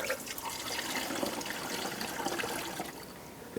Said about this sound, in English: Let's pour the rest of our coolant in here.